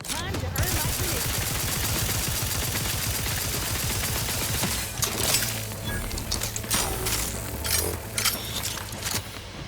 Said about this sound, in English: Sawed-off triple barrel shotgun.